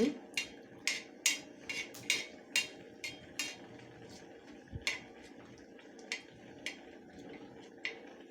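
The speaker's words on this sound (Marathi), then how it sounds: "काजू बदाम तर हे थोडंसं परतून घेते" Cashews and almonds sautéed in a pan while making sevaya kheer, giving a run of sharp, evenly spaced clinks and taps of a spoon against the pan, close and fairly quiet.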